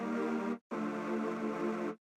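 Soul chords played through distortion and a steep low-cut filter, heard as two sustained chords, a short one then a longer one after a brief gap, thin and mid-heavy, fairly quiet and alone.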